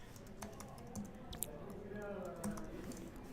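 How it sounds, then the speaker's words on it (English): Rapid clicking keystrokes on a computer keyboard, a steady close patter of taps with occasional louder key hits. "hit the space bar, and we're going to type in the alt tag and type in an appropriate name"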